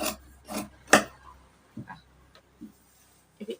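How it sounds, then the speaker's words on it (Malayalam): Scissors cut fabric to shape a nighty, producing a few close, quiet rasping snips that fade into sparse soft rustles. "നമ്മൾ ഇവിടെ നിന്നും ഷേപ്പ് കട്ട് ചെയ്യണം"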